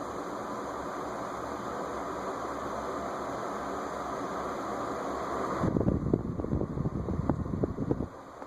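A Fanimation Beckwith ceiling fan, model FP7964BN, runs on medium speed with a steady, even whoosh of moving air and a constant whir, joined toward the end by louder gusty wind noise at the microphone.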